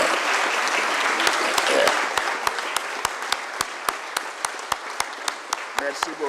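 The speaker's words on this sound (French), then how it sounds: "je voudrais qu'on salue nos lauréats en vous levant et en les applaudissant." A standing audience applauds the laureates at a national excellence prize ceremony, with dense, loud clapping that thins toward the end into a few scattered individual claps.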